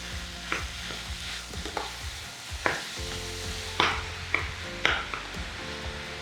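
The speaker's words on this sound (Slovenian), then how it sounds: "zdaj pa dodam mleto meso. Danes uporabljam svinjsko meso" Minced pork sizzles in a pan while being stirred, a steady frying hiss broken by sharp scraping and clacking strokes of the utensil at irregular intervals, close and fairly loud.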